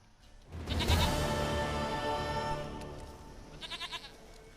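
A goat bleating in The Witcher 3: one long, wavering, nasal bleat rises near and loud, then fades, followed by a few short quieter pulsing bleats at the end.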